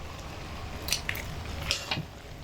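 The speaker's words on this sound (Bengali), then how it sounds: "আমি বারে বারে খুন্তি দিয়ে নেড়ে আপনাদেরকে দেখিয়ে দিচ্ছি কীরকম ঘনত্বের হবে এটা" Thick dried jujube pickle stirred with a spatula, giving soft sticky squelches and wet smacking clicks in a few irregular strokes, close and fairly quiet.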